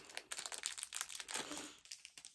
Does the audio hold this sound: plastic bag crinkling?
yes